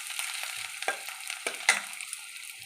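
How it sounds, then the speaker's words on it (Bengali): Browned onion and garlic hiss softly in oil, with a handful of scattered spatula scrapes across the pan over the low, steady sizzle. "সমস্ত কিছু লাল লাল করে ভাজা হয়ে গেছে।"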